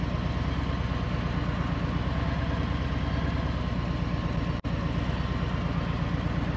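A motorcycle engine turning slow tight circles runs with a steady low, even throb close by, holding near constant revs with one brief dropout partway through.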